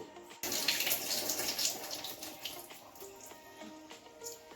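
Rice grains are washed by hand in a bowl of water for homemade cerelac, giving a steady close splashing and swishing of water that runs throughout without any speech.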